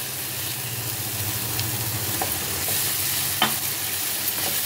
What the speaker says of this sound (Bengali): মশলাটা তেল ছাড়া পর্যন্ত কষাবো আমি